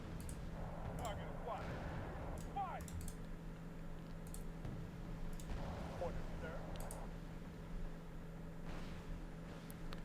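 Gunfire crackles in the Wargame: Airland Battle video game as a unit shoots at a TATU vehicle during a Copenhagen 3v3 match. Sharp shots and bursts sound intermittently at moderate level over a steady low hum, mixed with keyboard-like clicking.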